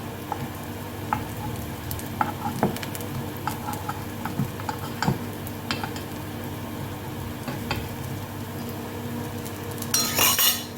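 Sorghum flour and jaggery paniyaram cooking on a slow stove, a soft, continuous sizzle with scattered light clinks of a utensil against the pan and a brief louder rattle near the end.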